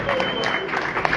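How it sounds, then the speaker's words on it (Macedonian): A wedding crowd in southern Serbia claps steadily in a dense, continuous wash of applause, with voices mixed into the noise. "jedan veliki aplauz za Ice, Čeli, Franc"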